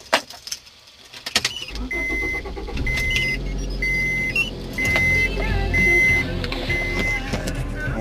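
A 1995 Honda Accord starts: key jingles and clicks, a short cranking burst, then the engine catches and settles into a steady idle, with dashboard chimes beeping repeatedly over it.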